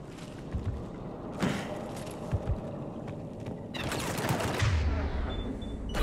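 A shooting fight breaks out in the video game Mass Effect 3. Bursts of automatic gunfire and scattered shots come with heavy thuds and mechanical noise, loud and steady over a rumbling background.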